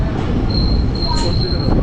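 Train pulling into Panagarh station, heavy rumbling rail noise with a sustained high metallic wheel squeal running through it, loud and close from on board.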